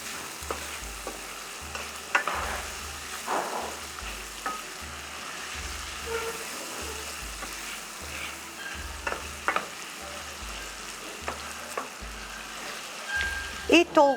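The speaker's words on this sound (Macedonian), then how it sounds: "И толку имаме пржење." A pinch of red pepper is stirred into a frying pan for a polenta dish, giving a steady close sizzle broken by scattered scraping clicks of the spoon, with no one talking.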